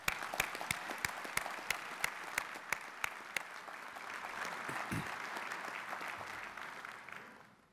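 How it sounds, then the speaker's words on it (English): An audience at an International Hall of Fame ceremony applauds its sponsors, a fairly distant, steady round of clapping with a few sharp individual claps standing out near the start, then fading away at the end. "join me in a round of applause for our sponsors"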